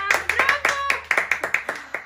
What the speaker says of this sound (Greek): Χειροκρότημα! Χειροκρότημα!